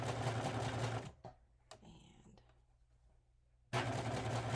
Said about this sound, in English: I pull my serger strings out so they get cut with the whole process